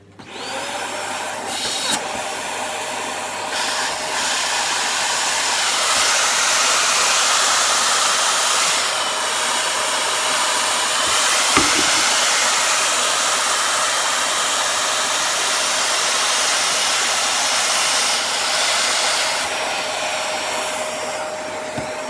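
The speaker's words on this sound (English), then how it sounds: "I'll turn the vacuum on, it's going to make a bit of noise." A loud vacuum cleaner motor whines steadily close by for the full duration, with a high-pitched tone and faint bumps and shifts along the way.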